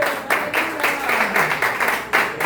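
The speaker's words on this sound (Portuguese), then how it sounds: "louve a Deus com as palmas bem fortes" A church congregation claps loudly in praise during a service, rhythmic group clapping in regular bursts with voices mixed in, near and full.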